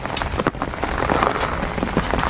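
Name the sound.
rain falling on a farm field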